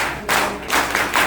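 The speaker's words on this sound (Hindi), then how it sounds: "ताली प्रारंभ" An audience at a teacher training session claps three times in unison, three loud, evenly spaced bursts of applause in a hall.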